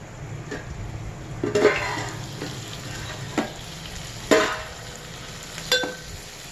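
Drumstick curry ingredients being stirred in a pan, a steady sizzling fry with a few sharp scraping clinks of the spoon against the pan, no talking.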